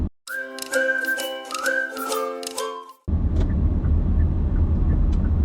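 Someone whistles a short tune, which cuts off abruptly. A car's low interior road rumble follows as it drives along World Drive in Florida near Celebration.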